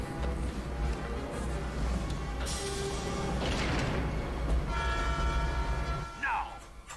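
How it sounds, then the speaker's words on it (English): A train rumbles and blows its horn during a chase sequence in a PS2 video game, with a steady low rolling rumble, sustained horn tones, and a brief whoosh and whistle near the end. "I have a train to catch. Nice. Train chase."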